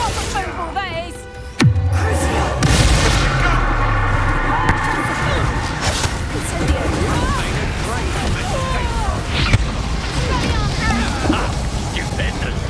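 A Confringo explosive spell blast in the video game Hogwarts Legacy bursts with a sharp crack, followed by a chaotic battle din of whooshes and impacts, with a voice calling out over it.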